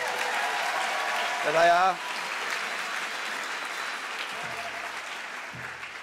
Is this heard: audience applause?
yes